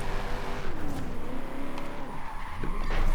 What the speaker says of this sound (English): But look at the wheel spin we are doing.